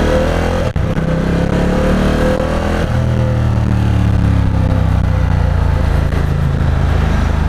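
A Ducati XDiavel motorcycle engine runs steadily up close during a ride, its pitch rising and dropping through gear changes, loud and continuous throughout.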